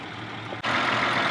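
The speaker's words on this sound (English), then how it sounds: "we're started and idling now" A steady engine idle from an unrestored 1929 Willys-Overland Whippet 98A hums close by, briefly dipping before continuing as a constant, slightly louder drone.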